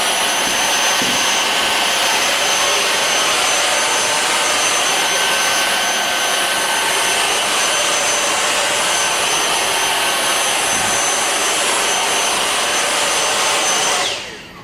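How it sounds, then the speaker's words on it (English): A vacuum cleaner sucks debris off model railway track, a loud continuous whine and rush of air that stays steady and close for the whole stretch, then cuts off at the very end. "So vacuuming the track again is pretty important"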